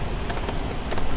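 A computer keyboard is typed on in a few quick, light key clicks over a steady background hum.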